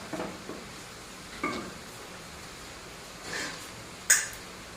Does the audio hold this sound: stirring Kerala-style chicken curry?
yes